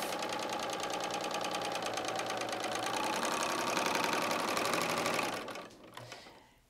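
A Bernina L890 sewing machine with its knife engaged stitches and trims a zigzag edge off fabric, running in a fast, even mechanical rattle for about five seconds before stopping abruptly, close and loud with no talking.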